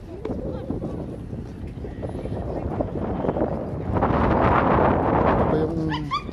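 A dog barks and yips outdoors amid wind noise and a steady background rumble, with a few higher whimpering cries near the end.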